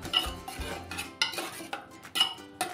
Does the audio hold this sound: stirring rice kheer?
yes